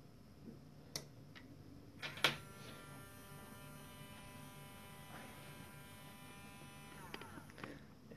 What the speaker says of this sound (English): So I'm going to turn on the motor.